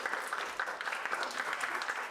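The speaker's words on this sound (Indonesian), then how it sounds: "tepuk tangan dulu untuk kelompok 3" A classroom of students applauds a student group after its presentation, with dense, steady clapping from many hands at moderate distance throughout and no clear voice on top.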